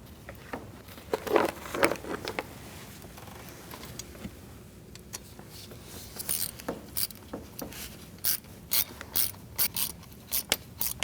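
A hand ratchet clicks in short bursts while tightening thermostat housing bolts on a 2008-2014 Mercedes-Benz C300 3.0, the close, crisp pawl ticks coming in irregular back-and-forth spurts.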